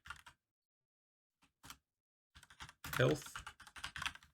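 Keys tapped on a computer keyboard, a few soft clicks then a denser burst of typing, close and fairly quiet, with someone speaking briefly over part of it.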